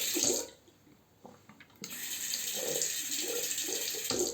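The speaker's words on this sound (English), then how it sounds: "So I will wash the razor for the final look." Running tap water rinses a Merkur 25C-style safety razor at a sink, a short splash, then a quieter gap, then a steady close hiss of flowing water until the end.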